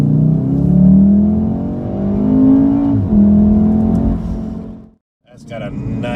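A Volkswagen Golf R exhaust revs with a deep grumble, rising and falling through several close, loud pulls before cutting off abruptly, then resuming briefly.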